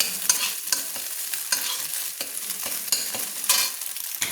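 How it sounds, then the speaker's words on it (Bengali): Scrambled egg fries in a pan while a spatula stirs it, making repeated rhythmic scraping strokes over a soft, continuous sizzle, close by and with no talk. "এইভাবে খুন্তি দিয়ে একটু নেড়ে নিতে হবে।"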